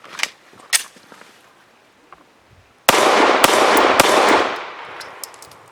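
Remington RP9 pistol firing Blazer aluminum-case ammunition: a few sharp, scattered reports early on, then a loud, sustained burst with crisp cracks standing out before it fades.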